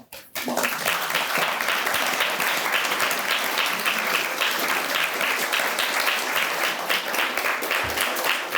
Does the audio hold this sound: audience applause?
yes